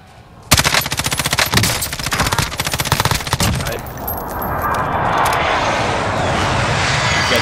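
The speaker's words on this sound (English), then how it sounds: "Oh shit, Tower's shooting at him and now at me." Rapid automatic gunfire rattles loudly in a long burst during a Call of Duty Modern Warfare Warzone match, then gives way to a rushing aircraft-like engine roar that fills the rest.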